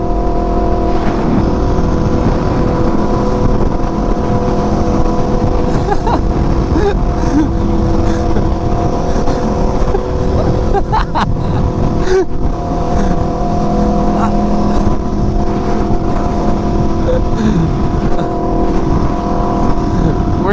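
Aprilia RSV4 Factory motorcycle engines run in a steady, loud drone with continuous rumble and wind rush throughout, riders on the move with engine noise dominating.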